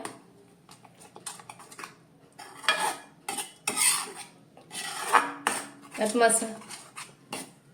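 A ladle scrapes and stirs thick masala paste in a metal pan for Konkani-style lasuni methi, giving irregular bursts of clinking and scraping with a soft background hiss.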